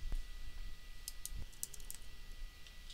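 Soft keyboard typing while entering a file name in Silhouette Studio, a quick cluster of light key taps followed by a mouse click, faint and close over a steady hum.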